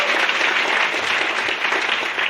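An audience claps enthusiastically for homemakers at a direct-selling seminar, a dense, loud, sustained applause filling the whole moment.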